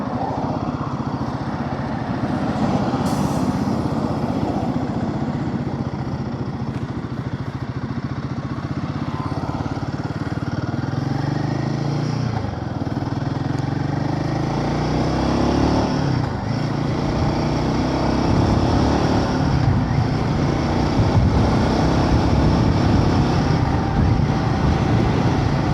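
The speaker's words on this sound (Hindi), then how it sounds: "अगेन वही सिचुएशन, बहुत सारी गाड़ियाँ आ रही हैं।" Many vehicles pass in night traffic around a Royal Enfield Himalayan 450 motorcycle, whose close, steady engine drone dominates the dense, continuous road rumble, with a few louder passes.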